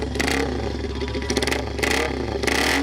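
A single-cylinder cafe racer motorcycle engine revs up in repeated loud bursts over a steady throbbing idle, close by, with no talking.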